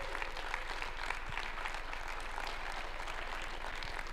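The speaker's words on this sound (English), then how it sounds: "Let's give it a round of applause again for all of our amazing speakers today." Steady, dense applause from a large TEDx audience for the speakers, continuous and even throughout with no voices standing out.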